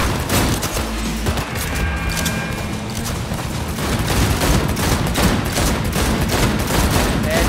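Dense, sustained gunfire from a Cyberpunk 2077 firefight, with rapid automatic bursts and booming shots layered over a constant roar of combat noise for the whole stretch, loud and close throughout.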